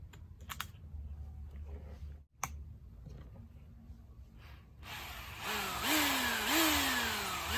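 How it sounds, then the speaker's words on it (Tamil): A restored old electric drill machine, plugged into mains power, starts up after a few handling clicks and runs loud and close with a harsh steady whir and a rising, wavering motor whine. "நம்ம ட்ரில் மிஷின் போட்டாக்களே சூப்பராக வந்து ஒர்க் ஆக ஆரம்பிச்சிருச்சுங்க"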